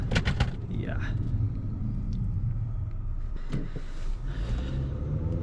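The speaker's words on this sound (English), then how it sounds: "You hear a lot of noise from the engine" A steady low engine rumble fills the cabin of a 2025 Acura TLX A-Spec while driving, with a person talking over it.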